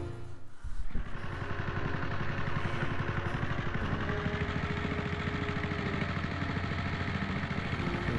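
A riding lawn mower engine from the game Blackbay Asylum starts with a sputter, then settles into a steady, loud, chugging idle that drones on without a break.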